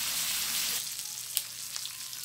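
Fish cooking in its own oil on a grill improvised from an old pot lid, a bright hissing sizzle that softens after the first second, with a couple of sharp pops and scrapes.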